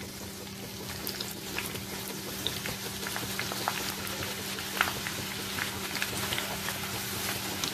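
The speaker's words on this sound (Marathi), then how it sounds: "आता आपण यामध्ये हे फणसाचे जे काप आहेत थोडे थोडे करून तळून घेणार आहोत।" Thin jackfruit slices fry in hot peanut oil over a medium flame, with a steady, close sizzle and fine crackling pops that continue throughout.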